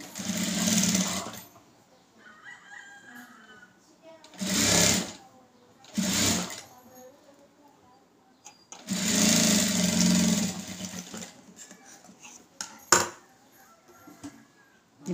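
Sewing machine stitching the lining of a blouse in several separate bursts of rapid mechanical whirring, with quiet pauses and a clack or two between runs.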